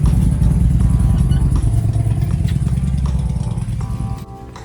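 A nearby motorcycle runs with a loud, throbbing low rumble and some clatter, then drops in volume near the end as it moves off or settles.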